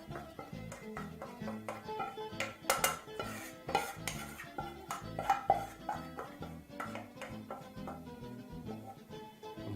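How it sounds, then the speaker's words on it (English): A spoon scrapes and knocks repeatedly against a metal pan while cooked empanada filling is emptied onto a plate, with irregular clinks, taps and soft thuds close by and no talking. "proceed to empty your mixture onto the plate"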